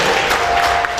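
A church congregation applauds during a JKI Keluarga Kerajaan worship service, a brief, dense wash of many hands clapping at close range, steady and loud throughout.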